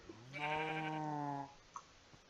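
A Minecraft sheep gives one clear, nasal bleat in the video game, with a faint click or two after it and no speech.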